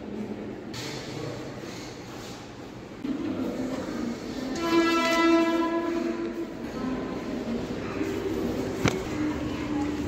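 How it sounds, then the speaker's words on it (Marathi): A Kalyan-bound Mumbai local train arrives at a station with a steady rumble of wheels on track, a loud horn sounding midway, and voices in the background of the busy platform. "ह्या ट्रेनमध्ये चढते पटकन"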